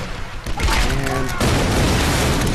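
Grenade-launcher blasts roar in the 2013 Tomb Raider game, a dense, loud run of booms and crackling detonations that fills the whole stretch with sustained rumble.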